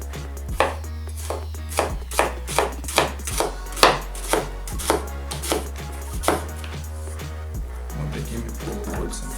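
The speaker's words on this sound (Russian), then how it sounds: "Лук нарезаем полукольцами." A knife slices an onion into half rings on a board with a fast, regular run of crisp, close chopping strikes that slow near the end, over a constant low hum.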